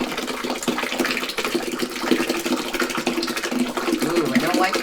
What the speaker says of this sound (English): we're going to pour in our curds